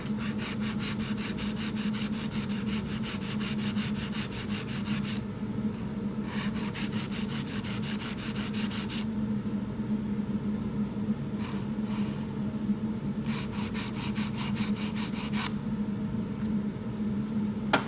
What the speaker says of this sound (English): I'm filing, supporting the file back and forth along the side wall so that it's perfectly straight.